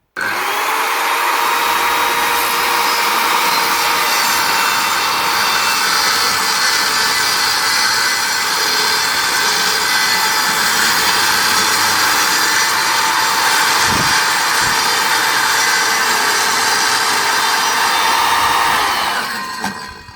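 A Kreg Rip-Cut guide on a circular saw rips through wood, a steady loud whine holding for about eighteen seconds with no talking before the blade spins down at the end.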